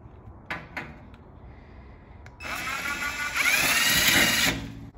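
Power drill bores holes in an electrical panel for a generator interlock kit, with a few clicks before a steady, close whine that rises and then stops.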